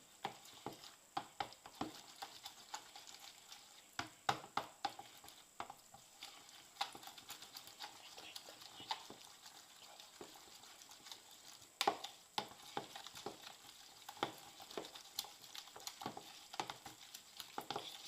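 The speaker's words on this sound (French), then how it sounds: "C'est assez long à mélanger à la main, parce que les œufs ne se mélangent pas facilement" Eggs being worked by hand into choux pastry dough, a steady run of sticky, wet slapping and stirring clicks in a bowl, close and fairly quiet, with no talking.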